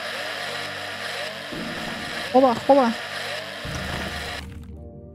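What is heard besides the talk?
drill running in video game Breathedge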